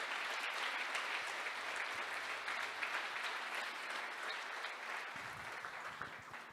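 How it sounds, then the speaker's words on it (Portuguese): A church congregation applauds during a sermon on the signs of Jesus' coming, a broad, sustained burst of many hands clapping that fills the space and slowly thins toward the end, with faint voices underneath. "Você pode aplaudir, glorificar o nome do Senhor?"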